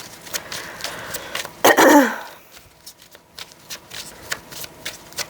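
Tarot cards are shuffled and handled close up, with soft rapid riffling and flicking, a throat clearing breaking in midway, then quieter taps and card slides.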